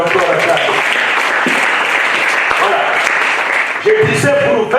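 Church congregation at a youth seminar clapping and cheering for the Lord, a continuous loud wash of applause with voices mixed in throughout.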